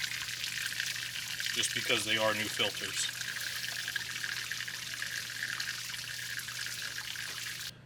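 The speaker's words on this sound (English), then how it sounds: "Filtered water coming through." Filtered water runs steadily through new RV water filters, making a continuous hissing, trickling pour, with a voice speaking briefly partway through.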